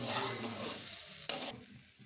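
Grated coconut being fried in a pan for kuli pitha gives a soft, close sizzle with light stirring scrapes and a sharp clatter near the end, after which the sizzle settles into a quieter hiss.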